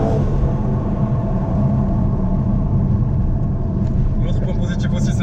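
A Mercedes-AMG GT63 S engine in Sport Plus mode accelerates with a loud, sustained deep rumble that holds for several seconds while someone talks over it.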